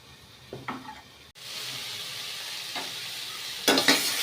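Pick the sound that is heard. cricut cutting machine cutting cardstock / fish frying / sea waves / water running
fish frying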